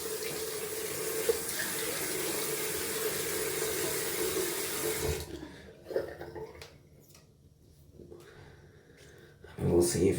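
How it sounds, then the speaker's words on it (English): Cold water runs from a tap and is splashed onto the face during a wet shave, a steady broadband rush for about five seconds, then quieter splashes and drips with brief louder bursts near the end. "Gonna add some cold water to the face."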